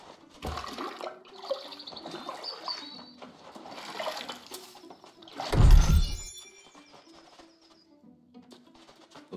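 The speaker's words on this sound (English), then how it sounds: "might as well pull some water" Water being drawn in the fantasy game New World makes a sudden rushing, gurgling surge midway through, loud and brief, set against quieter ambient game sounds and birdlike cooing.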